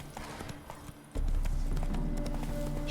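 A horse gallops in The Witcher 3 on Nintendo Switch, and its hooves beat a rapid, steady clip-clop. The pace starts lighter and becomes a louder, fuller run after the first second, with faint game ambience beneath.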